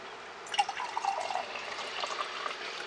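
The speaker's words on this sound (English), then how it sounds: "so if you hear that noise, that's just me drinking." A person drinks water from a cup, with soft, close sips and liquid sounds trickling through a quiet stretch and no talking.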